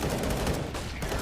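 A rifle spray in a Counter-Strike match on Inferno fires as a quick, loud burst of rapid shots that fills the short moment, with a caster talking over the gunfire.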